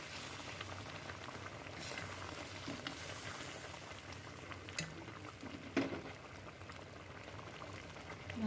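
Doi katla, a yogurt-based katla fish curry, bubbles steadily as its gravy simmers down and thickens, a continuous close burbling with a few louder pops and no talk over it.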